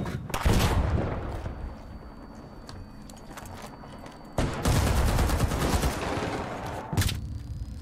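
Explosions and gunfire in the video game The Finals, including a flashbang grenade going off: sharp, loud blasts and rapid bursts of shots, with a big bang near the middle and another near the end.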